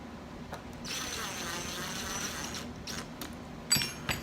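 A screwdriver drives two screws into an electric guitar control plate on a Boxter guitar kit, giving a close, steady whirring drive with brief grinding bursts and a sharper final tightening near the end.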